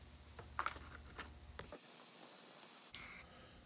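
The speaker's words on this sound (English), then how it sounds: "spray them all out with some carb cleaner" Several short clicks and handling noises, then a loud continuous aerosol spray of carburetor cleaner onto Volkswagen carburetor parts in a tray hisses close by for about a second before stopping.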